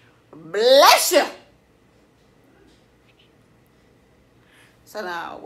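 A single loud sneeze bursts out early, followed by a quiet pause, then a second shorter vocal burst near the end.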